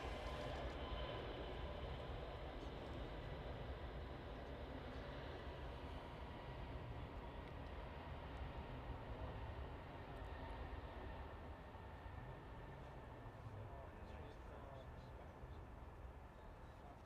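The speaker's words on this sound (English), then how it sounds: "EasyJet on the roll." An EasyJet airliner on its takeoff roll at Manchester Airport gives a constant, distant broadband engine roar that holds steady throughout, faint and unbroken.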